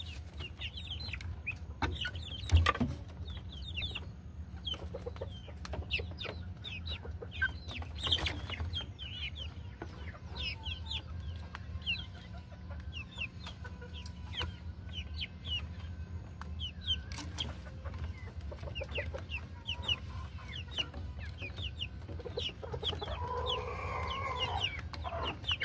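Young breeding pullets cluck and chatter repeatedly at moderate distance in a farm setting, with scattered bird calls over a low background hum and no speech.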